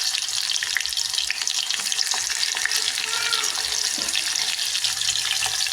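Mustard seeds, cumin and garlic fry in hot oil in a home kitchen, giving a steady, close sizzle with fine crackling pops that carries on without pause and with no voices.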